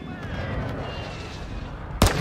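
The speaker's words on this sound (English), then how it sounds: "Friendly airstrike on the way." Heavy gunfire and artillery-like booms rumble steadily through a Call of Duty Modern Warfare II battle as a friendly airstrike comes in, ending with a louder close blast near the end.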